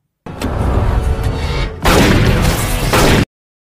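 Loud, dense bursts of gunfire from a film action scene, one sustained volley followed by a heavier, continuous barrage that cuts off abruptly, with no speech.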